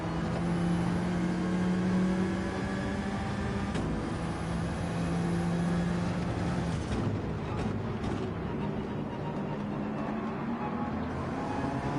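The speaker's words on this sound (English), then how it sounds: "Oh, we're drifting." Car drifting in Gran Turismo 7, a steady engine drone with a sustained tire squeal rising and falling over it, loud and continuous, followed by scraping bursts and a quieter tail.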